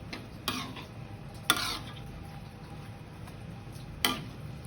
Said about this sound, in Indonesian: kita aduk lagi pelan-pelan.